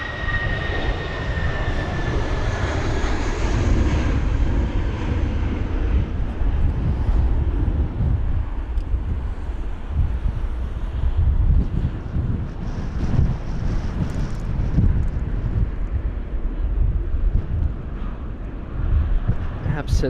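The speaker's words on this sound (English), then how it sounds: "Absolutely roaring away. Those engines were very, very loud" An Airbus A320 at London Heathrow roars loudly during a storm, its jet engine noise swelling under heavy gusting wind buffeting the microphone, while a commentator talks over it.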